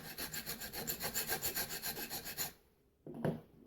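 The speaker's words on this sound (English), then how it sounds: "using small files, clean up any burrs on the end of the shaft tube" Small hand file rasping burrs off the end of a model ship's rudder shaft tube, a steady run of about eighteen even strokes, close and fairly quiet, then a pause and a brief scrape.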